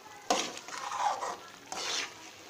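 Chickpeas fry and are stirred in a pan, giving soft sizzling with scraping strokes, a sharp scrape near the start and another stirring burst toward the end, close and fairly quiet.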